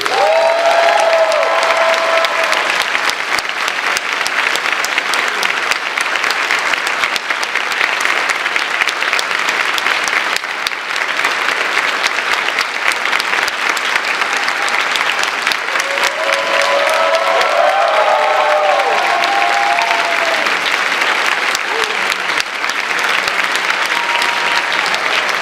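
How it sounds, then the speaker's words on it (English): Long, sustained audience applause at a music educator's retirement concert, a loud, dense roar of clapping from a large crowd that carries on for over twenty seconds, with a few brief voices rising through it. "I should have added a long applause in the script for that."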